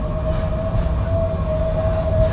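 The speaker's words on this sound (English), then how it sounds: "we on the two-car Siemens train. N Judah Siemens, 2042 and 2037 combined" Two-car Siemens light rail train, N Judah cars 2042 and 2037, riding inbound: a steady loud rumble of wheels and motors with a sustained tonal whine running through the whole ride, no talking.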